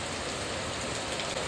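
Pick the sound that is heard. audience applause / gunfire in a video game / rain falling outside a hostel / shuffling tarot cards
rain falling outside a hostel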